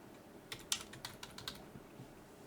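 Someone types code on a computer keyboard during a C# 3D rendering tutorial, giving a short, quiet burst of key clicks close to the microphone that thins out toward the end, with no voices.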